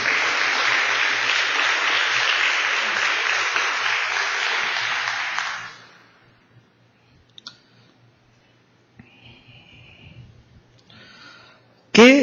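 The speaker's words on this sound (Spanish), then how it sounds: "Dale un gran aplauso al Señor." A church congregation claps for the Lord during a Spanish-language service, a dense, even wash of applause for several seconds that quickly dies away into near silence with a few faint stray sounds.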